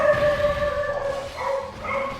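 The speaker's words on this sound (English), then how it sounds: "That's him barking in the background." A dog barks and yips in the background during play of the mobile game Dokkan Battle, with repeated short tonal calls, somewhat distant and fairly steady across the clip.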